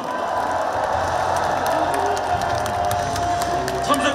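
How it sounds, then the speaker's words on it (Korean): Crowd at a Democratic Party presidential nominee convention in Korea cheering and applauding steadily, with whoops and shouts rising over a dense, continuous roar that stays loud throughout. "다시 한번 뜨거운 박수, 성원 부탁드립니다"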